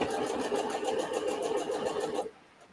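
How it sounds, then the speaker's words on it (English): Sewing machine stitching fabric for a Christmas table runner, a close, steady rapid mechanical whir with even needle pulses that runs for about two seconds, then stops abruptly. "So I'm going to start stitching."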